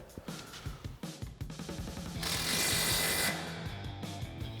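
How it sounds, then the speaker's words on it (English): An impact wrench with a 19mm socket tightens a bolt while a truck coil-over suspension is installed: mechanical rattling and clicks, then a loud buzzing burst of about a second as the bolt is driven down. "Now we'll grab our 19mm socket on our impact and go ahead and tighten that down"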